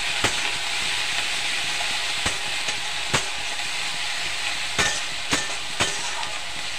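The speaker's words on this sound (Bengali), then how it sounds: "পেঁয়াজটা ভালোভাবে নেড়ে নেবো" Ground onion paste stirred and fried in a pan: a steady broadband sizzle runs throughout, broken by several sharp scraping strokes of the spatula, fairly close, with no voices.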